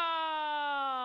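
A person vocally imitates an ambulance siren, holding a single steady, strongly harmonic wail for about a second at close range, with no other sound around it.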